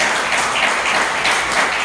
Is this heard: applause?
yes